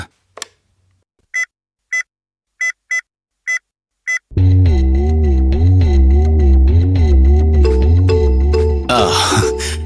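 A phone rings in six short, evenly spaced electronic bursts, then loud dramatic music swells in and plays on.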